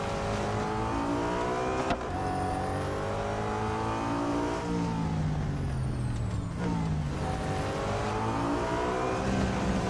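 Racing car engines from the Real Racing 3 video game whine steadily throughout, the pitch rising and falling through gear shifts, loud and continuous with no speech.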